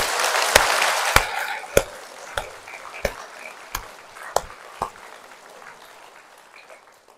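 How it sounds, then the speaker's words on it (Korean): A congregation in a Catholic church in Incheon applauds, the dense clapping fading out while several slow, sharp rhythmic claps ring through it and then fade too. "그 사람들을 위해서 박수 한번 쳐드립시다."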